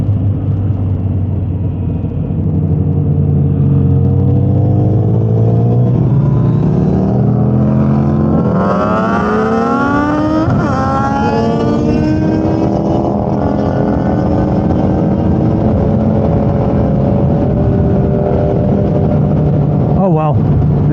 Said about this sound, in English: We're going to do a roll race.